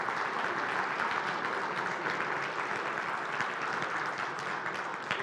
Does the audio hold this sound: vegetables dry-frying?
no